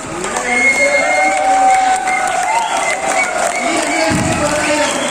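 An audience claps and cheers loudly, a steady wash of applause with excited crowd voices mixed in throughout.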